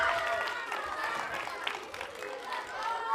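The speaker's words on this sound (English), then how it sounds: "So 5M, big round of applause." Clapping from students at a school assembly for class 5M, moderately faint and mixed with crowd chatter and voices throughout.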